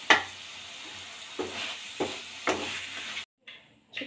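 Mushroom garlic fry cooking in a pan at home: soft steady sizzle with several sharp stirring scrapes, then a brief near-silence and a faint return of frying.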